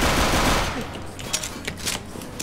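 Rapid automatic gunfire from the game CS:GO crackles loudly in a dense burst, then breaks into a few shorter, scattered shots.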